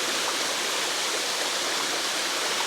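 A waterfall and stream pour steadily at Hazelbrook, a dense, continuous broadband rush of flowing water with no voices, loud and unbroken throughout.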